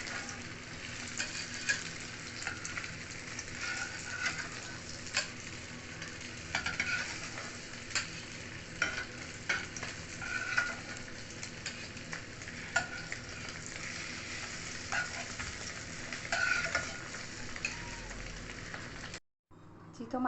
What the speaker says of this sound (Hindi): अब हम इसमें कबाब डाल देते हैं फ्राई करने के लिए